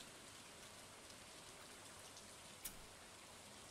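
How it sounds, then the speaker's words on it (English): Rain in the video game Stardew Valley falls as a steady, soft hiss of patter, faint and continuous, with one brief click partway through. "Or maybe that was a catfish. Because it's raining."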